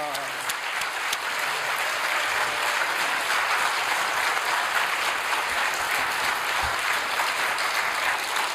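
A church congregation claps in welcome for a guest missionary speaker, a steady, fairly dense round of applause lasting several seconds.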